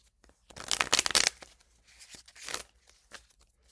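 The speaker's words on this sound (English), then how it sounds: "Let's shuffle the" Tarot cards are shuffled by hand, close up: a dense burst of riffling and flicking, then a few softer, scattered shuffles and card slaps, with no talking.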